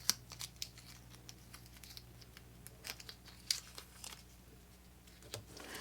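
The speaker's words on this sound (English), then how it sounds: "Grab your tape, and we're taping it down." Tape is pulled off a roll and pressed down around a machine embroidery in-the-hoop potholder project, giving quiet crinkling rips and soft sticky crackles in scattered short bursts, close by.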